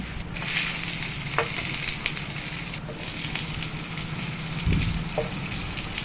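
Chillies and tomatoes fry in oil in a pan for a peanut chutney, a steady close sizzle with scattered crackles and occasional clatters of stirring, and no talking.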